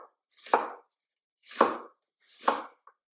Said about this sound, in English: I'm going to cut them in little wedges